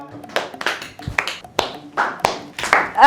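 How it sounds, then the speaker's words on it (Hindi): Children in a classroom clap in sparse, uneven bursts, several separate claps spaced across a few seconds rather than sustained applause, fairly close and moderately loud. "सारे बच्चे ताली बजाओ"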